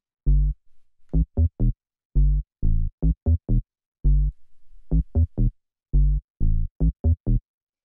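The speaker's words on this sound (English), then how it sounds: "Next thing we have here is the basses," Two interplaying minimal house bass synth lines, one plucky, heard alone as short, punchy, clipped low notes in a funky syncopated pattern.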